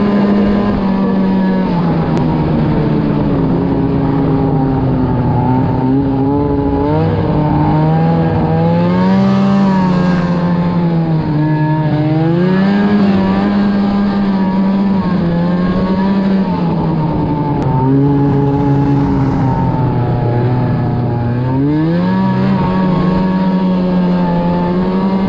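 Old, blown-up snowmobile engine with no brakes, running steadily at low speed, a loud, continuous droning motor whose pitch rises and falls gently with throttle changes, close and unbroken throughout.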